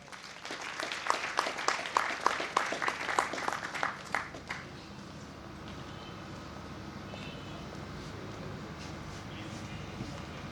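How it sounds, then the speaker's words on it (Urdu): An audience at the All Pakistan Allama Iqbal Awards ceremony in Sialkot claps in a dense burst of applause that dies away after about four seconds, leaving a quiet room hum. "بھرپور تالیوں سے استقبال کیجئے جناب محمد جنید صدیقی صاحب"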